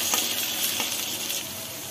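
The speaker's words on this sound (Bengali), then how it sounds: "এটাকে খুব ভালো করে নাড়াচাড়া করে ভেজে নেবেন যাতে টমেটোটা গলে যায়" Tomato and ginger paste frying in a pan sizzles steadily up close, with a few soft scraping stirs breaking through the hiss.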